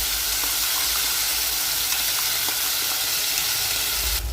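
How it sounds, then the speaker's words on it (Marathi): Gravy poured into hot oil sizzles loudly and steadily, a dense close hiss that holds throughout without pause. "आपलं तेल गरम झालेलं आहे। आता ग्रेव्ही टाकायची आहे।"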